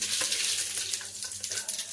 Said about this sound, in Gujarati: તો આપણે નાખ્યું આમાં જીરું